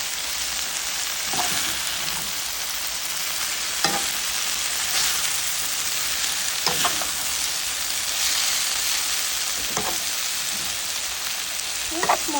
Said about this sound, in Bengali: করলা আলু মিক্স করে ভাজি করছি